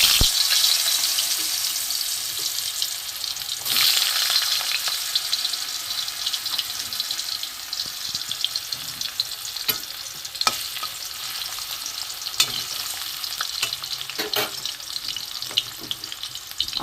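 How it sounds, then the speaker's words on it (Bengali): Potatoes and pointed gourd fry in hot oil with a continuous bright sizzle, and a spatula scrapes and stirs through it at intervals. The frying is loud and close, with brief surges as pieces are turned. "এখানে আমি আলু, পটল, বটবটি, পেঁপে, কুমড়ো এগুলো আমি একটা একটা করে ভেজে নেব"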